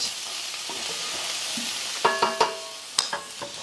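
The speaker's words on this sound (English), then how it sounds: "So I'm going to stir this up" A bulgur wheat mixture is stirred in a pot during cooking: a steady low sizzle gives way to several sharp scraping clacks of a spoon against the pot, close and clear, with no talking.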